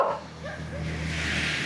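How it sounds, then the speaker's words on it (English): Street dogs bark outdoors on a morning walk in Sanur, Bali, a couple of short yips heard at a moderate distance over a steady background hum. "Dogs are out in force this morning."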